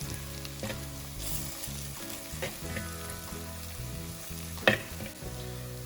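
Kerala-style crab roast masala fries in a pan with a steady, soft sizzle under background music, broken by an occasional stir or scrape.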